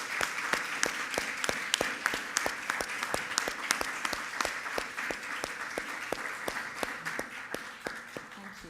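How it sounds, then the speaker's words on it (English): Audience applause for panel speakers at a creative-careers event, sustained clapping from a crowd with sharp individual claps close to the microphone, steady throughout and slowly easing at the end. "Please, let's give our speakers a round of applause."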